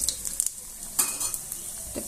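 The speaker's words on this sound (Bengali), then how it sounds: "এখন আমি শুকনো মরিচ দেবো," Dried chillies and cumin crackle and sizzle in hot mustard oil, a close, quiet frying hiss with a few light scrapes of a stirring spoon against the pan.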